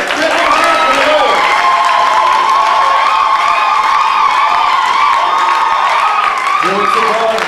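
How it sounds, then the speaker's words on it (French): A church congregation applauds and cheers loudly and continuously in praise, with shouts and whoops rising over steady clapping throughout. "Acclamons pour le Seigneur."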